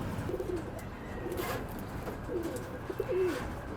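Racing pigeons coo softly several times, low rolling calls spread across a quiet, hissy background.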